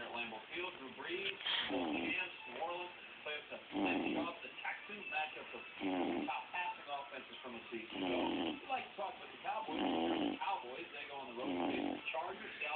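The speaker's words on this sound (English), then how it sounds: "You're supposed to stop snoring when you wake up." A little bulldog snores in a series of repeated, rumbling snorts and wheezy breaths, heard close and fairly quiet with short pauses between them.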